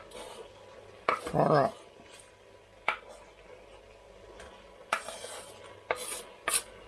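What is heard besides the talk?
onions being added to a pan and stirred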